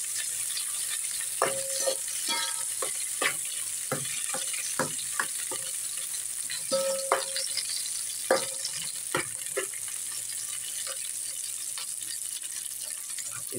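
Lemongrass sizzles in hot oil in a casserole pot, a steady crackling hiss broken by scattered sharp pops and clicks, close and fairly quiet throughout.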